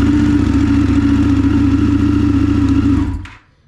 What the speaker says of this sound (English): I'm just gonna crank it up,